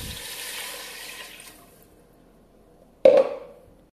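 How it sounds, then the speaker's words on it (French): Water runs into a saucepan holding washed rice, a steady pouring wash that fades out, followed after a pause by a sudden brief splash or clunk that dies away. "je vais rajouter l'eau et je vais laisser cuire"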